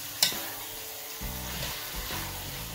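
Curry goat fries and sizzles in a Dutch pot while being stirred, a steady close hiss with occasional scrapes and clinks of the spoon against the pot.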